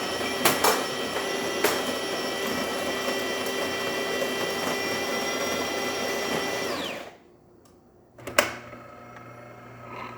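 A DeLonghi espresso machine pump pulling a shot, a loud steady mechanical whine and buzz that runs for about seven seconds, stops abruptly, then a brief click and clatter before a quieter hum resumes.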